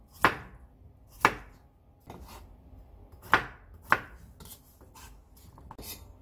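A knife chops through a potato on a cutting board while a zucchini doenjang soup is being prepared, giving four sharp, isolated knocks at uneven intervals with fainter taps and quiet gaps between.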